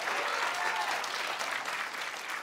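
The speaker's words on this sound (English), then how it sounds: "Give him a round of applause." A studio audience at a high school quiz show claps for a contestant, a brief, dense burst of applause heard at moderate distance without interruption.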